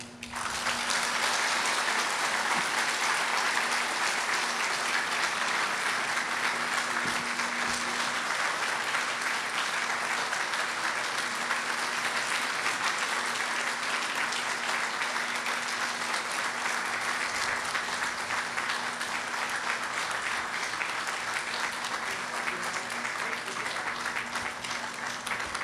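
Sustained, loud audience applause fills a grand opening ceremony for a Guam medical center, dense, even clapping that continues without a break for over twenty-five seconds.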